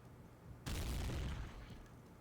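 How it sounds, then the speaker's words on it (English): A grenade bursts in the shooter Day of Defeat: Source, a sudden loud boom that cuts in and rumbles for about a second before fading into background noise. "Grenade out over here."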